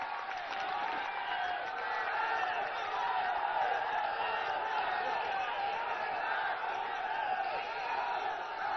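A large crowd at a Congress political rally in Fatehpur Sikri awaiting Rahul Gandhi, a dense continuous roar of clapping and cheering that stays loud and steady throughout, with a voice faintly underneath.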